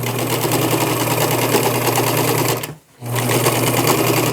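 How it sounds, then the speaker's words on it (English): A sewing machine stitching T-shirt fabric runs in a loud, steady close-up whir, stopping briefly for a moment before starting again at the same pace. "so I'm just going to sew here and cut that piece off"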